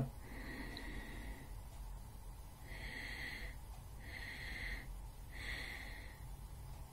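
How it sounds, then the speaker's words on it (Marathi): Close, quiet breathing during a breathing exercise: a deep breath, then an exhale let out in three equal, evenly spaced puffs. "खोल श्वास घ्या आणि सोडताना तीन समान भागांमध्ये तीन इक्वल पार्ट्समध्ये श्वास सोडा"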